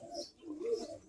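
A blue check mark-wing racing pigeon coos at close range in soft, low repeated phrases across about a second, with faint higher chirps from other birds in the background.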